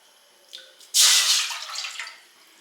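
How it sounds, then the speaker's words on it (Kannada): A cup of water splashes into a pan on the stove for ragi roti, a bright, rushing pour that starts abruptly after a small clink and then trails off into gentler trickling, with no one speaking. "ನಾನು ಇವಾಗ ರಾಗಿ ರೊಟ್ಟಿ ಮಾಡೋದಕ್ಕೆ 1 ಕಪ್ ನೀರು ಹಾಕ್ಕೊತಾ ಇದ್ದೀನಿ"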